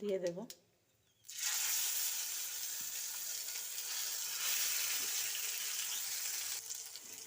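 Ground spice paste drops into hot oil holding a fried tempering of bay leaf and whole cumin and bursts into a loud, continuous sizzle that holds steady. A brief voice comes just before.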